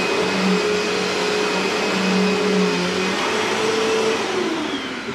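A 2000s-era vacuum cleaner runs continuously with a steady whirring motor drone and a slight pitch wobble, close by, ending with a small drop in level.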